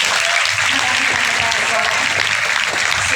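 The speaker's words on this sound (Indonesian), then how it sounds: "Tepuk tangan dulu." Secondary school students at SMA Negeri 92 in Jakarta applaud a visiting minister, giving loud, continuous, dense clapping from a large crowd for the whole moment.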